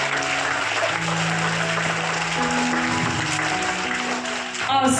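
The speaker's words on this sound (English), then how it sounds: "Give them a big round of applause for a wonderful presentation." An audience at a school assembly applauds a kindergarten class presentation, with steady, dense clapping throughout and some faint tones and voices underneath.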